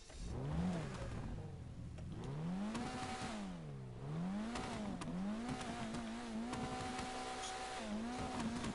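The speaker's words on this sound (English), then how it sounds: "Do you want to hear her rev?" Car engine in the GTA video game revving repeatedly, with the pitch climbing and falling in several rising sweeps and a sustained high rev near the end, loud and close with no talk.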